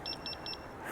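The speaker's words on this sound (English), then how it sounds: "except for the beeping." Electric unicycle, a Mten Mini, giving three pairs of short high beeps in a steady rhythm, fairly close and clear above a low background hum of riding.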